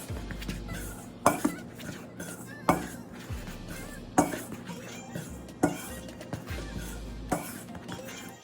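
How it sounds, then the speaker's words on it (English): Dry flour seasoned with black pepper, garlic powder and cayenne stirred in a bowl, with repeated sharp utensil knocks against the bowl at steady intervals between softer scraping and mixing sounds. "Mix this all together"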